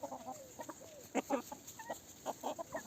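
Several young hens cluck close by in a farmyard, giving short, separate calls in an uneven rhythm over a quiet background.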